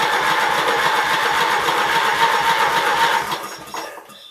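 An electric starter powered from a jump box cranks a 16 hp cast-iron Briggs engine, a close, loud, rapid rhythmic chugging that runs steadily for about three seconds before it winds down and stops without catching.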